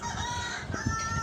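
Desi chickens around two to two-and-a-half months old, some forty in a flock on a farm veranda, cluck in short low bursts close to the microphone over a steady background hum.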